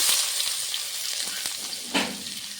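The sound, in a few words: chopped onion frying in mustard oil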